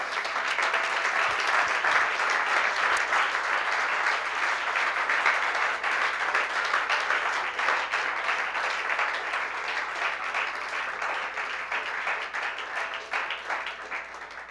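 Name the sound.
congregation applause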